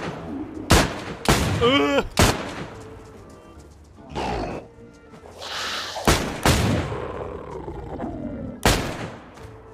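Gunfire in the survival game DayZ: five or six sharp, loud shots spaced unevenly a second or two apart, mixed with grunts, panting and pained cries from a player voice.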